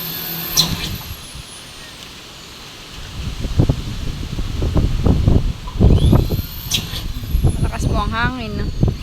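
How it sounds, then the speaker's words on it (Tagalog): Strong outdoor wind buffeting a microphone in low rumbling gusts that swell and subside over several seconds, with a few brief high squeals and some faint background noise. "Malakas po ang hangin."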